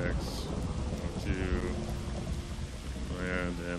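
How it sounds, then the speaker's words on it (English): Steady rain in the game Minecraft hisses throughout, mixed with game sounds, with faint voices under the noise. "It's rainy."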